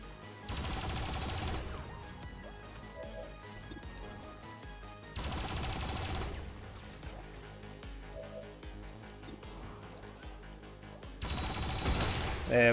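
Defensive towers firing in XCOM 2 against Advent mechs, three loud bursts of rapid automatic gunfire separated by quieter stretches of battle noise and music, with a voice talking in the gaps.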